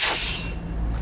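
Air hisses loudly as a tyre is inflated through a MAXTRAX Indeflate hose, a short sharp burst that quickly fades to a low steady rush.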